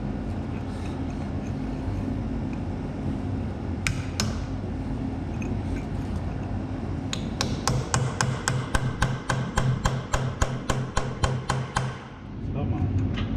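A chisel is struck with a hammer on the seized rear brake of a Ford Transit van, a run of about fifteen sharp metallic blows in a steady rhythm, close and loud over a workshop hum, after a few scattered taps.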